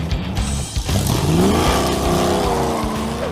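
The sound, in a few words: 1968 Dodge Charger engine revving with a 440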